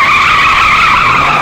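A car's tires squeal in a loud, sustained skid, close by and unbroken through the whole moment, with no voices over it.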